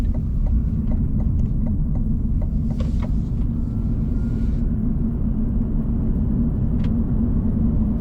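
A 2026 GMC Sierra EV AT4 electric pickup truck merges onto a freeway, with a steady, heavy low road rumble throughout and a few faint clicks and ticks above it.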